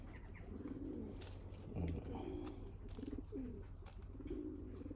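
Pigeons at a flyers loft cooing in soft repeated phrases over a constant background hum, with a brief thump in the middle.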